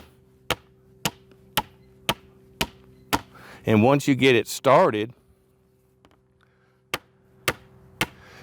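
A 4-pound hammer drives a wooden post into sloped ground in sharp, evenly spaced strikes, a steady run of loud thuds that pauses while someone speaks briefly, then resumes with a few more blows.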